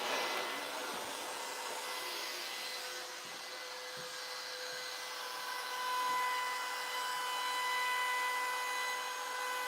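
A blower runs in a woodworking shop during sign carving, a steady whooshing drone with a faint high whine, holding at an even level close by with no one talking.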